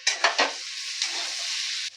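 Banana flower curry (mochar ghonto) is stirred and fried in a pan: three quick scraping strokes open, then a steady close sizzle that holds before cutting off abruptly.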